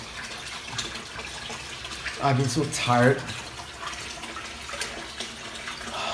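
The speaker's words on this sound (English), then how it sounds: "shower time." A shower runs steadily as a constant wash of spraying water, with a person speaking briefly partway through over the hiss.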